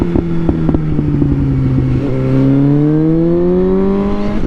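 A tuned Suzuki GSX-S 750 motorcycle engine idles steadily and loudly up close, with a smooth droning hum that rises slightly in pitch partway through.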